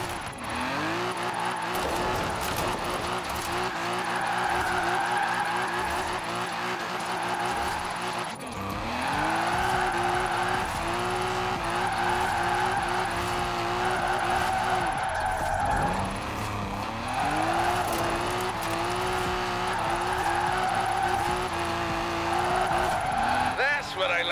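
A car drifts in Forza Horizon 4, its engine roaring steadily while the tires squeal through long slides, with brief dips in the engine note before it builds again, loud and continuous.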